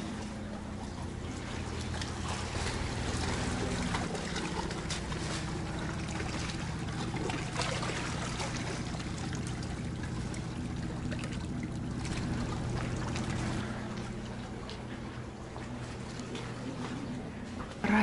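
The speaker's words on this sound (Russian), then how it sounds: "Слышите, как шумят волны?" Faint, distant surf hisses and rumbles steadily in the background at an Alanya beach at night, a low continuous wash of waves with a quiet hum beneath.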